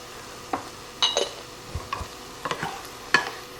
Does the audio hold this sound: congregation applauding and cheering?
no